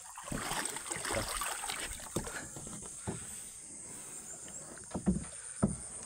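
Quiet lapping and splashing of water around a small boat moving on a river, with occasional soft knocks and splashes.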